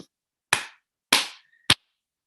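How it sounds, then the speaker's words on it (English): Three sharp hand claps ring out alone, evenly spaced about half a second apart, each with a short room echo. "three claps"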